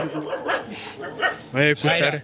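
A dog barks a few times in short yelping bursts, mixed in with people talking nearby, outdoors near a beach.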